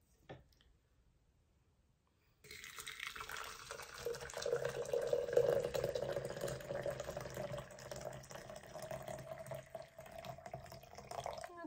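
Water poured into a cup or pot for tea: a faint, steady splashing stream starts after a brief quiet moment and carries on to the end.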